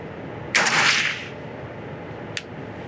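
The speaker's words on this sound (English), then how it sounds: "So let's take our first shot." A single loud report from an FN SCAR rifle fired outdoors, sharp and brief with a short tail, followed by a faint small click.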